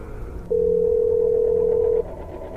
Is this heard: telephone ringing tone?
yes